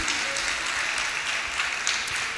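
A church congregation applauds during a Portuguese-language worship service, a steady, dense wash of clapping that fills the whole stretch without pause at moderate loudness.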